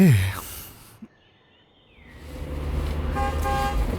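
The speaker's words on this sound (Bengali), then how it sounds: "এই সময় বাইরে গাড়ির হর্ন শোনা গেল" A car horn sounds outside, a short tone with a few stacked notes, following a sharp knock and a quiet pause, then a low vehicle rumble rises and a second horn-like tone rings near the end.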